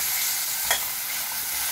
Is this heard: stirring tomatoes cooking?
yes